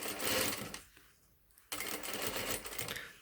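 A domestic sewing machine stitches the princess seams of a dress, running in a steady close-up whir, stopping briefly for a near-silent pause, then starting again at the same even pace.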